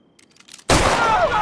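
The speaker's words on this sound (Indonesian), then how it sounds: "Jacob tiba-tiba menembak Christopher." A single loud gunshot in a film cuts through a quiet scene after faint background sounds, then a dense ringing echo carries on behind it.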